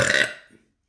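A single loud, close burp from a woman during a food challenge, a short burst that fades out within about half a second and leaves silence.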